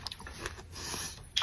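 Someone bites into a crunchy Dubai chewy cookie from a 7-Eleven in Korea, with close, quiet crisp crunching and chewing over a second and a half.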